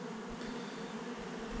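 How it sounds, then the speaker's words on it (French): Bees hum in a steady, dense drone at the landing board of a hive, a close continuous buzz with no voices. "il y a des abeilles sur la planche d'envol"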